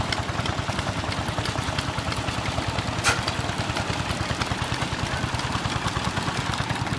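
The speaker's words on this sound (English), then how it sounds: "Got all the old engines here." Old vintage engines idle together at an annual steam and vintage machinery rally, a steady close rhythmic chugging and thumping that runs unbroken throughout, with one brief sharp click partway through.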